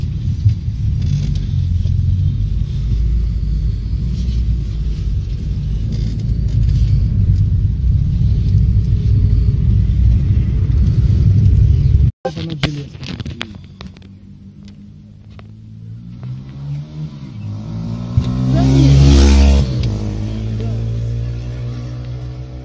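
An armoured personnel carrier (BTR) engine rumbles loudly with a deep, heavy drone, then drops abruptly as a gear change is attempted, followed by rising and falling revving whines that climb to a strong surge near the end.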